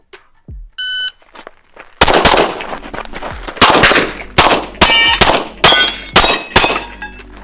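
A shot timer gives a short electronic start beep on a shooting stage, testing a Vortex Venom enclosed red dot sight. A rapid string of loud, sharp gunshots follows close by and rings out, with no talk.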